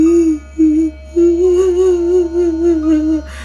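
A voice imitates a pontianak's laughing and crying, giving a thin, wavering high-pitched wail in broken stretches, close and alone.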